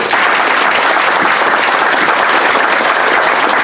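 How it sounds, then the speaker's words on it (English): An audience at a town committee nomination meeting breaks into loud, dense applause that holds steady for the whole span. "So I want to applaud you."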